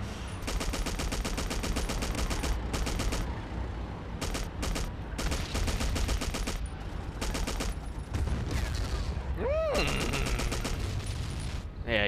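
Rapid machine gun fire in a World War II Bulge battle game rattles in long dense bursts broken by short pauses, loud and close, with a whistling descending shell sound partway through.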